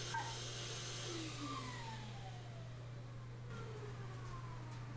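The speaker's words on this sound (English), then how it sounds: "I started off using my FlexVolt dust extractor" A DeWalt FlexVolt dust extractor runs in a workshop with a steady, low, droning suction hum and faint whining tones that rise and fall over it. Nobody speaks.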